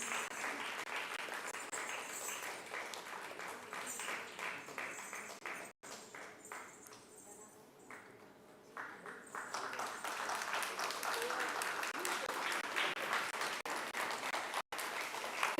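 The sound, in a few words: audience applause for the competition winner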